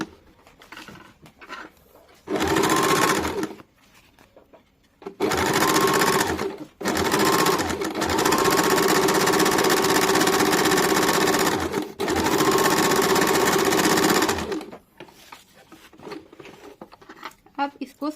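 An electric sewing machine stitches a semi-salwar in several long, loud whirring bursts, separated by short pauses and quieter stretches.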